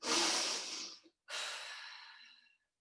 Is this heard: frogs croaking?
no